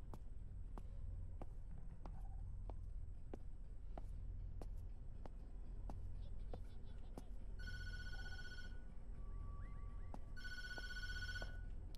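Two bursts of electronic telephone ringing in the Tattletail video game, each a sustained trilling ring lasting about a second, heard later in the clip over a steady low rumble with faint rhythmic thuds like footsteps.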